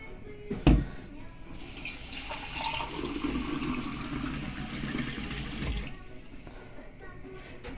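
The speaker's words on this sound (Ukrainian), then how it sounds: "Зараз води налью сюди." Water pours steadily for about five seconds into a pot, a continuous rushing splash that starts after a brief knock and then stops abruptly.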